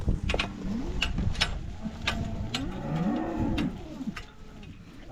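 Cattle low and moo in several drawn-out calls at close range, with sharp clicks and rustling outdoors in between.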